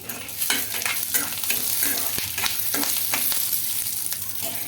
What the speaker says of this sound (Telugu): ఇవన్నీ వేసుకొని బాగా వేయించుకోవాలండి